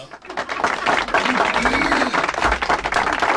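An audience applauds and claps after a live song at a music talk show, a steady dense patter of many hands with voices and cheers mixed in throughout.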